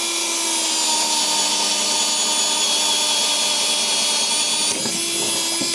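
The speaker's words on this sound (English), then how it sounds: "So I'm gonna go ahead and drill this hole right here as well." A power drill bores a hole through a wooden wall stud while wiring a receptacle outlet, a loud, continuous close whine with a steady grinding bite that holds for several seconds, with a slight shift near the end.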